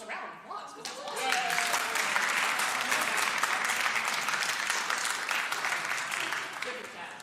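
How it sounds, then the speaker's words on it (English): A lecture-recital audience claps together in a sustained, fairly loud round of applause that swells after the first second and slowly tapers, with some background chatter and a dog-like yelp mixed in. "You should give yourselves a round of applause, because that's awesome."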